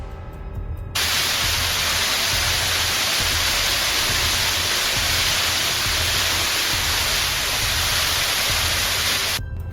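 A waterfall pours steadily right beside a natural eternal flame, a loud, dense, unbroken roar of falling water that holds at full strength from just after the start until the very end.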